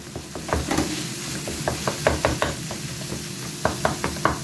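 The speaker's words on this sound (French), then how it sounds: "on mélange le tout" A food mixture with broccoli being stirred, spiced with a pinch of chili, gives irregular scraping and clattering strokes over a soft sizzling bed, close and fairly loud.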